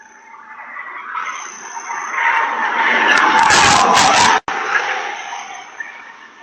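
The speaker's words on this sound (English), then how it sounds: "her brakes were screaming" A car skids with its brakes screaming, a long rising tire squeal that swells loud, cuts off abruptly and trails into fainter road noise.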